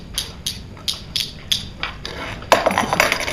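A handcuff ratcheting shut, a run of about seven small crisp clicks at an even pace followed by a quicker burst of clicking, close up with no voices.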